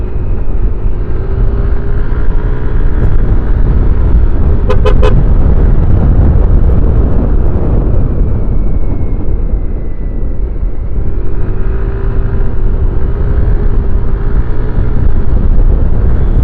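A Yamaha Aerox scooter runs on its stock exhaust pipe with the catalytic converter removed, giving a steady, loud, close idle drone with a deep low rumble throughout and a brief higher note partway through.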